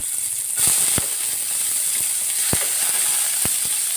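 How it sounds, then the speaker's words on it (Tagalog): Garlic sautéing in a hot pan for chicken adobo, a steady bright sizzle with a few sharp spattering pops scattered through, close and alone. "Igigisa ko muna ang ating bawang, tumatalsik."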